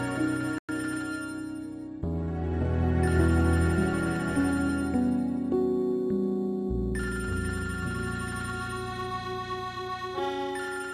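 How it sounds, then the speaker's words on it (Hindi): A phone ringtone plays loud and alone, a bright melodic tune with sustained tones that shift pitch over several seconds, no talk over it. "फोन उठा लो, कोई जरूरी कॉल हो सकती है।"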